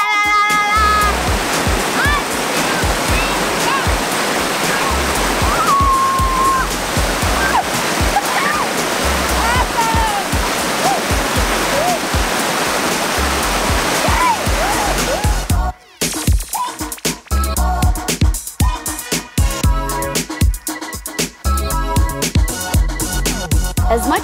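The Seven Wells waterfall (Telaga Tujuh) on Pulau Langkawi, Malaysia, roars steadily with water rushing over rocks and splashing into natural pools, while voices and shouts of people swimming mix in over the continuous noise.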